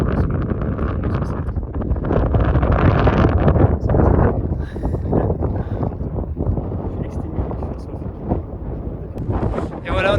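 Strong mountain wind at the Cirque de Gavarnie blasts steadily against the microphone with a loud, rumbling roar, while people talk beneath the gusts.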